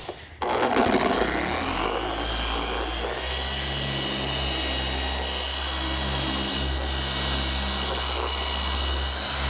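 A corded electric polisher with its pad laid on a car's paint spreads Ceramic Pro coating; after a brief start the motor settles into a steady, loud whirring drone that holds evenly throughout.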